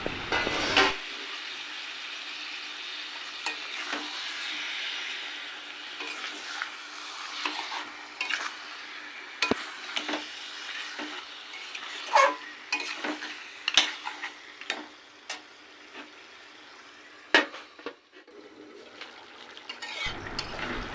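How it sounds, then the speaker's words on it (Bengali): Marinated desi chicken stir-fried with well-cooked spices, with a quiet continuous sizzle from the pan, a spatula scraping and tapping against it at intervals, and occasional clinks of cookware. "এবার দিয়ে দেব ম্যারিনেশন করা মাংস। মাংস দেওয়ার পরেও আরও কিছুক্ষণ কষাতে হবে।"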